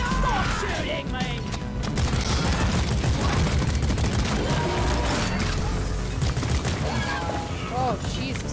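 Dense, continuous gunfire from the video game Stream Raiders, loud and busy throughout, with crashing impacts and game sound effects layered in and voices briefly underneath.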